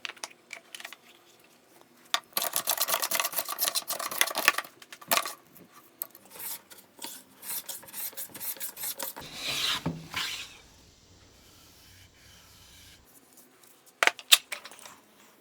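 A hand plane smooths a bandsaw-cut walnut board in bursts of rasping, shaving strokes, with a pause and clatter before a few final short passes, close and moderately loud with no talking.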